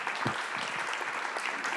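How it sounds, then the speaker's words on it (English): An audience claps throughout a presentation at a retreat, making a dense, steady patter of many hands at moderate distance. "Let's give them a big hands of applause"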